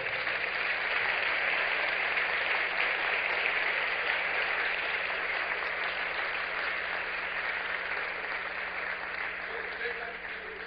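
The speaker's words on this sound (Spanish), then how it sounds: "un fuerte aplauso a sus hermanos en el mundo entero" Broad, steady applause from a large audience at a church gathering in Tegucigalpa, a continuous dense roar of clapping that slowly fades, with a low steady hum beneath.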